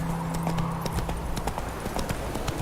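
The horse Roach gallops in The Witcher 3, rapid rhythmic hoofbeats close and steady over a low game hum.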